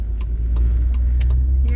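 A car heavily loaded with belongings drives off a university campus, its engine giving a steady low rumble with brief clicks and rattles on top, heard from inside the vehicle.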